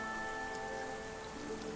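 Rain falling steadily on a surface, a dense continuous patter with a faint tonal hum underneath, even in level throughout and without any talking.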